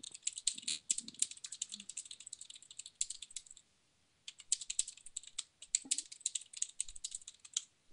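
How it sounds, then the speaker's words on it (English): Fast typing on a fairly quiet computer keyboard at an old Windows XP machine, dense close clicking in bursts with a short pause midway, no talking. "I have a slightly quieter keyboard"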